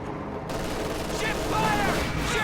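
Gunfire from a StuG assault gun and MG42 machine guns in Company of Heroes 2, a dense continuous rattle of shots and bursts with faint whistling streaks over a constant battle din.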